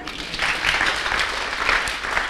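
Audience applause at a church youth sermon, a steady wash of clapping that holds evenly for a couple of seconds at moderate loudness.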